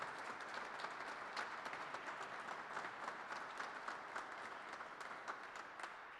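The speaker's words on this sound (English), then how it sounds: "Let's give them a round of applause for everything they do." Applause from an audience at an engineering and public works roadshow in Frankfort, Kentucky: steady, even clapping that sounds faint and distant and carries on for several seconds.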